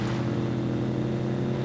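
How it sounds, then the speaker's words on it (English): A car engine in the video game SCUM: a steady, droning low motor hum, even and unbroken, fairly loud and close with no talk. "Oh, it's a car."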